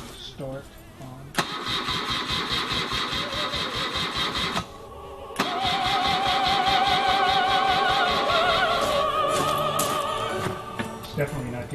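A motorbike engine in a video game being cranked to start: two long stretches of loud, rapid, stuttering starter churning, separated by a brief pause, with the engine failing to catch and a voice talking over it.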